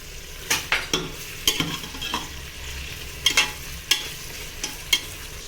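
Onions fry with rock salt in a pan for chicken biryani, heard as a constant sizzle broken by repeated sharp scrapes and clacks of a spoon stirring against the pan.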